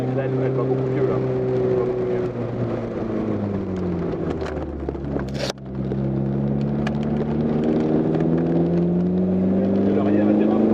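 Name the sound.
Peugeot 205 GTI 1.9 engine driving on mountain road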